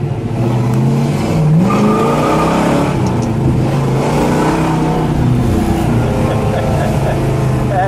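A 1964 Pontiac GTO post coupe with a 389 V8 revs and pulls hard from inside the car, a loud continuous rumbling drone that climbs and settles, with faint voices beneath.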